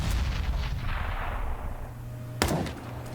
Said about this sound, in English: Landing a couple of shots for Kustas there with the AWP